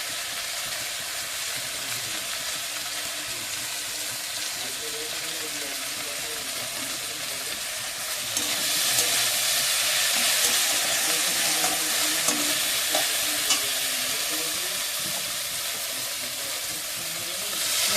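Chili-powder spice masala frying in a pan with a splash of water for a meat curry, a constant close sizzle that swells into a louder, steamy hiss partway through while being stirred.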